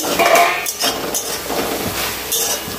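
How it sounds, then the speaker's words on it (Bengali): A metal lid comes off a pot of kochur loti (taro stolons) simmering on a gas flame, giving a few sharp close clinks and clatters over a background hiss. "ঢাকনাটা সরিয়ে দেখে নিই"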